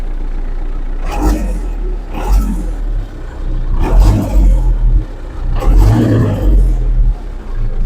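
An MTZ-82.1 tractor engine runs just after starting, a loud, close, low diesel rumble that swells in several revving surges over about eight seconds.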